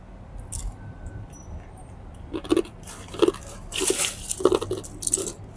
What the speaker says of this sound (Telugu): అంత కరకరలాడుతున్నాయి చూడండి